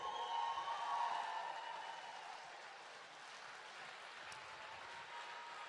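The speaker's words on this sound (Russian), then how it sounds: "еще раз аплодисменты!" An audience at a winter ethnic music festival claps after a band's set, a moderate crowd applause that swells briefly and then settles into a softer, thinning patter.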